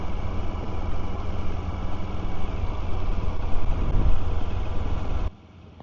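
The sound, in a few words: CFMOTO NK125 motorcycle engine while riding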